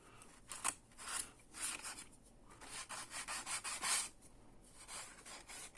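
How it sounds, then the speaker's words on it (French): A nail file rasping against the frayed edge of a paper card in scrapbooking card-making, heard as several short, close scratchy rubbing strokes in uneven bursts. "quand ça pluche, il paraît qu'il faut prendre une lime à ongles"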